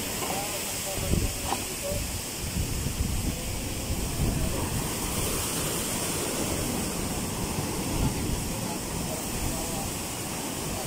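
Sea surf at high tide after a typhoon, a broad steady rumble and hiss of waves washing in, moderately distant under faint background noise.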